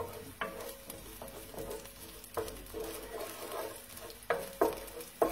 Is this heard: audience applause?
no